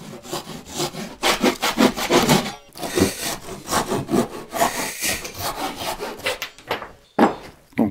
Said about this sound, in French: je vais passer un petit coup de scie.